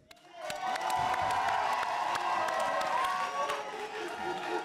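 A crowd at a brass band fanfare event applauds steadily with dense clapping that swells quickly and holds, mixed with some cheering.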